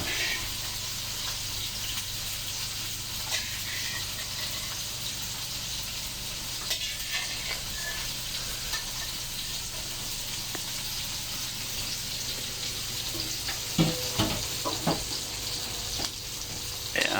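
Onion and garlic stirred and frying in a pan, heard as a steady broadband sizzle with scraping stir sounds and a few sharper clinks of a utensil near the end, with no talking.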